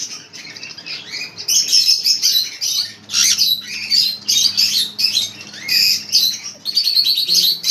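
Pet birds chirp and squawk continuously at close range, a busy overlapping chatter of shrill calls with a low steady hum beneath.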